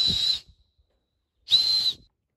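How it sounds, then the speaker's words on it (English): Homemade whistle folded from an aluminum can gives two loud, shrill, steady blasts, each under half a second long, separated by a second of silence. "you have a very loud survival whistle"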